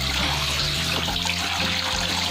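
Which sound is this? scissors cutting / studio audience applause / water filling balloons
water filling balloons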